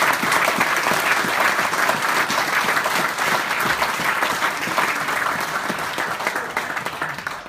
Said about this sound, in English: I'd like to hear a round of applause please for Chrissy Edkins